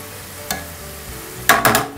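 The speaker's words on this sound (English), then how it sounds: "You can see how they're frying." Food frying in a pan for a Jersey tomato salad, a steady low sizzle with a brief stir sound near the start and a louder burst of clattering, sizzling activity toward the end.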